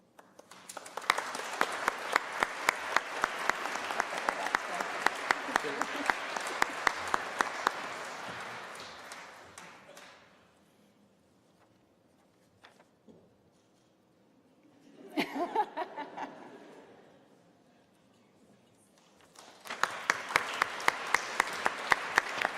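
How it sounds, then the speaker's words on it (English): Awards ceremony audience breaking into applause: a long burst of dense clapping fades out, a shorter round rises mid-way, and a loud full round returns at the end, with scattered chuckles. "You're so excited, you're already clapping."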